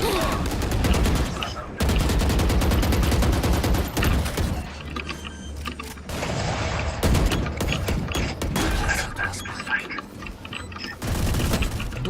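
Gunfire in the tactical shooter VALORANT, with loud rapid bursts of automatic fire broken by short pauses, mixed with weapon-handling clicks and people talking over the shots.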